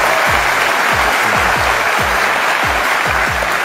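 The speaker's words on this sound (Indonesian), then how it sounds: "Kasih tepuk tangan dong, Cak Lontong." A studio audience claps for comedian Cak Lontong, loud and dense applause filling the whole moment with a steady wash of hand claps and thudding low beats beneath.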